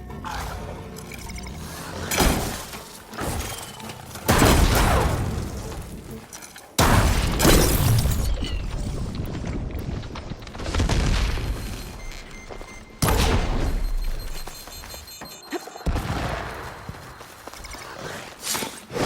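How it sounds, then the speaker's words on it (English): Loud explosions and heavy impacts from combat against mine launchers in Horizon Forbidden West, several broadband blasts at irregular intervals over constant action noise, with no speech. "I need to hit those mine launchers"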